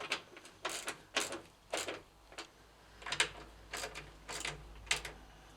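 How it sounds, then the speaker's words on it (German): Radiator bolts on a Porsche 924S/944 being tightened by hand, a series of quiet, rhythmic ratcheting clicks in short bursts, close and faint against a low background hum. "Wenn die oben fest sind, können wir auch die unten anziehen."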